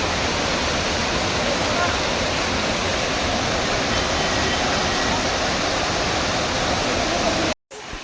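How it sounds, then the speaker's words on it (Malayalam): The Manikyadhara waterfall near Chikmagalur roars as a loud, dense, unbroken rush of falling water that runs for about seven and a half seconds, then cuts out briefly. "ഇവിടെ വെള്ളം ഒരു മുത്തുതുള്ളി പോലെ മൃദുവായി വീഴുന്നു"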